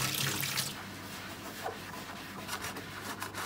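Tap water runs steadily into a sink while an Arçelik coffee machine's water tank is rinsed, a soft continuous splash with occasional rubbing and handling noises, no talking.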